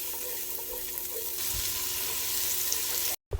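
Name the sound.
butterscotch sauce being stirred in a hot pan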